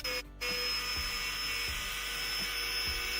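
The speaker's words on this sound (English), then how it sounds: "I am fully satisfied with my new router from DeWalt" DeWalt router cutting an oval out of an epoxy resin tabletop along a template, a steady high-pitched motor whine running the whole time with brief dips and faint rhythmic knocks of the bit.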